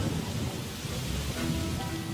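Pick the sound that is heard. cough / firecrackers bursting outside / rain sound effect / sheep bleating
rain sound effect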